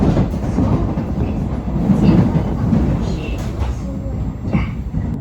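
A Seoul Metro Line 1 commuter train runs along the track with a loud, steady rumble and the rhythmic clatter of wheels over rail joints, heard close from on board.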